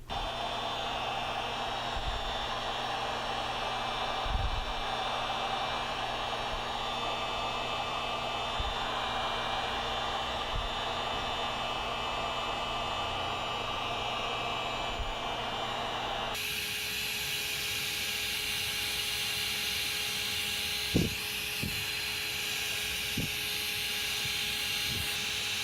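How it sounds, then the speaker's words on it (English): Heat gun on its high setting drying filler on a leather repair, giving a steady loud blowing whine that runs without a break, with a slight change in tone partway through. "I'm going to use a heat gun on high setting from a distance of about 2 to 3 inches to accelerate the"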